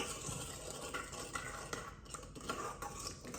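Faint, continuous swishing and light scraping as sugar and yeast are stirred into water in a bowl for pizza dough. Soft and close, with no talking.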